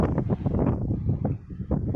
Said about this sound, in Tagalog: natutumba sa lakas ng hangin